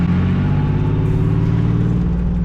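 Boosted engine-swapped Nissan S15 pulls hard under throttle, a loud continuous mid-range engine drone heard from inside the car, steady and close with no talking.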